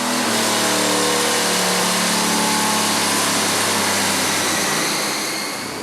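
A 1973 Buick Century V8 running hard on a chassis dyno, a loud sustained engine roar with steady high whine and rumble near the mic, easing off slightly at the end.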